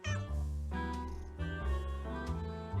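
A cat meows repeatedly inside the Nancy Drew video game Secret of the Old Clock, with several drawn-out, tonal cries following one another in close, moderately loud succession.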